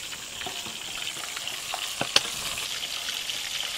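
Squid fritters (cucur sotong) fry in hot oil with a soft, continuous sizzle, broken by scattered pops and one sharp crackle, close by and with no one speaking.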